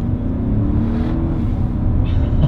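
An ABT-tuned Audi SQ7 SUV pulls hard in a sport gear, its engine droning loud and close with a steady, slightly rising tone and no gaps, heard from inside the cabin.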